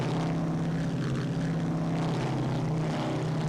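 Propeller drone of a B-26K Counter Invader in the flight combat game Strike Fighters 2, a steady loud engine hum with a strong low tone that holds unchanged throughout, no voices.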